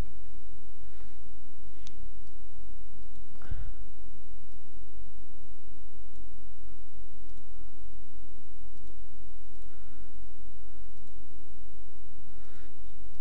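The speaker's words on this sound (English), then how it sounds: "Double click on it." Computer mouse clicks, a few sparse, light, sharp taps spread out over a steady low electrical hum.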